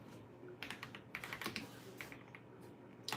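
Typing on a NuPhy Halo96 V2 mechanical keyboard, close up: quick bursts of crisp key clacks in uneven clusters, with short pauses between runs and a fresh flurry at the end.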